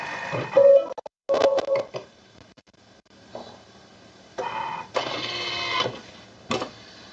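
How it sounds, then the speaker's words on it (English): A Thermomix TM6 blade whirs in bursts as it chops onion in the jug at speed 7, sharp mechanical spins separated by short pauses, close and fairly loud. "placing the onion in the jug and chop it for 3 seconds at speed 7"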